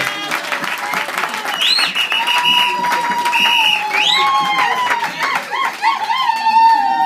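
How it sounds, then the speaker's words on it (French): Church congregation in France claps in a sustained round of applause, joined by cheering voices and whoops rising above the clatter of hands, continuing for several seconds. "Est-ce qu'on peut applaudir pour la part de Jésus-Christ?"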